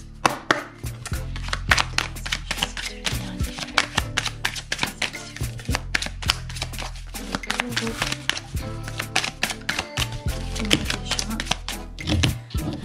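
Tarot cards are shuffled and cut by hand in a steady stream of quick, crisp slaps and riffles, close and busy, with a voice talking throughout.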